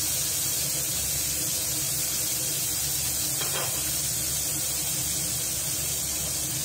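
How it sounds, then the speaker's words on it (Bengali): Dried chilli, black peppercorns, chopped onion and bay leaf frying in hot oil give off a steady, even sizzling hiss that holds at the same level throughout, close and alone with no voices. "এবার শুকনো লঙ্কা দিলাম, কালো গোলমরিচও দিয়ে দিলাম, টুকরো করা পেঁয়াজ, তেজপাতা গরম তেলে ছেড়ে দিলাম।"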